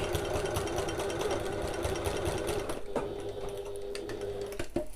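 A sewing machine basts a strap tab into place on a pocket at a 1/4 inch seam allowance, running steadily and close for most of the stretch, then slowing to a lighter hum with a couple of brief clunks near the end.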